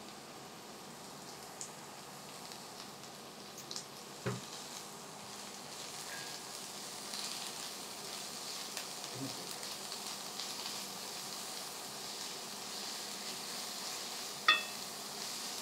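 Leftover rice mixture sautés in a pan with a soft, continuous sizzle and hiss, faint and steady, broken by a few small knocks and scrapes of stirring.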